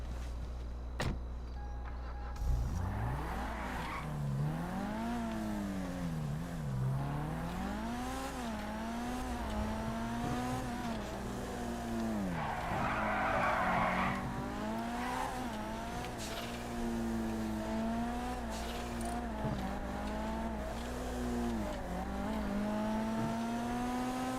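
Car skidding and sliding on a slippery road in the video game RedlineRP, with a continuous engine drone rising and falling in wavering sweeps plus occasional tire hiss, steady and fairly loud throughout with no talk.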